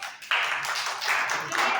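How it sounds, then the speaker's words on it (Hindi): Classroom audience applauding together in a burst of steady clapping that starts abruptly and carries on close and lively to the end, with no talk over it. "बढ़िया, ताली तो बजा दो।"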